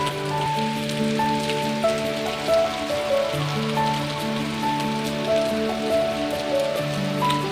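Heavy rain falls steadily at an industrial plant, a dense, even patter close by, with a sustained tonal hum running beneath it and no talk.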